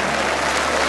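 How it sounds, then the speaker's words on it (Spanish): Crowd applause at a jaripeo fair in Nahuatzen, Michoacán, a brief, dense, steady burst of clapping heard from some distance. "¡Fuerte el aplauso para la Virgencita de Guadalupe!"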